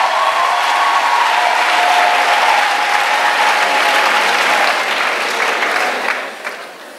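Steady, loud applause with scattered cheers from an audience at a singles' retreat, a dense wash of clapping that holds for several seconds and then thins out toward the end.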